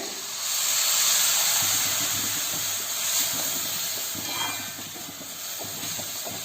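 A loud, steady sizzling hiss as water is poured into a hot pan of ginger pickle rises quickly and holds, slowly easing off as it continues without a break.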